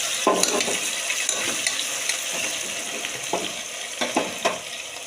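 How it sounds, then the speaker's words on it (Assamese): Onions, ginger and garlic frying in a pan, a continuous close sizzle with intermittent stirring scrapes and spatula knocks, no voices. "পিয়াজ আৰু নহৰু ভজা হৈ গ'ল।"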